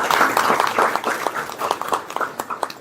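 An audience applauds at a Korean capital-markets policy event, with dense, moderately loud clapping that stays steady for a few seconds and no talking over it.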